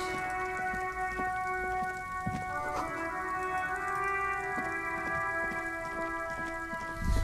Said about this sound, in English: All around you, rain falls on the great city of Revachol. Rain drips from the eaves and floods the gutters